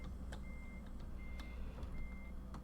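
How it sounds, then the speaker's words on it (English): Truck reversing alarm in American Truck Simulator, steady evenly spaced beeps repeating over a constant engine rumble with faint clicks, no talk. "before the next video, I'll have that back beep turned off"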